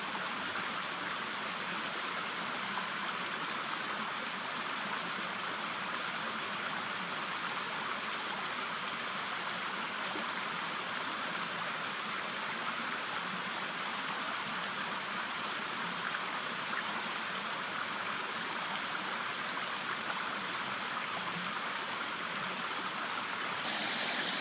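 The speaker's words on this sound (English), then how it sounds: "it's been raining pretty much all night, and the rivers are very swollen right now" Swollen river rushing after a night of heavy rain, a steady broad roar of flowing water close by, continuous and unbroken with no voices.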